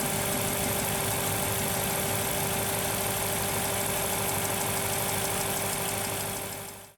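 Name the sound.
Aston Martin V8 engine metallic ticking tap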